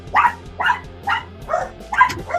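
Several dogs barking in an excited burst of sharp, repeated barks, about six in quick succession, loud and close with no talk.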